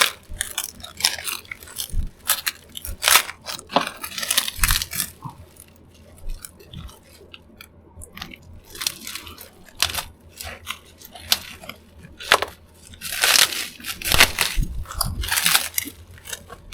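Parcel packaging holding an XFX RX 9060 XT graphics card gets cut open by hand, with irregular crisp snips, scrapes and crackling cardboard and plastic rustles coming in bursts close to the microphone.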